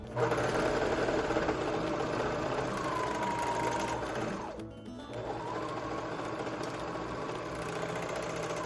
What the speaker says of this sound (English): I'm gonna go ahead and finish these side seams as well